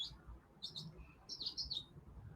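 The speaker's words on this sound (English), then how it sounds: "it's been louder and the birds singing here, birds chirping." Birds chirp outdoors in short, high, quiet bursts, a few quick tweets spaced over a couple of seconds against faint background noise.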